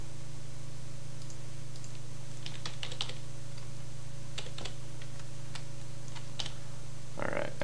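Typing on a computer keyboard while writing code in Flash CS4, scattered light key clicks in short bursts over a steady hum, quiet and close, with no talking.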